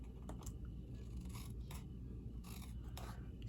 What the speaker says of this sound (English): Now we need to take and cut these two so we can move to this side.